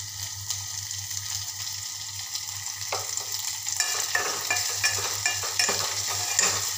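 Finely chopped tomatoes fry in a pan with a steady hiss that grows busier partway through, with soft stirring scrapes over a low constant hum.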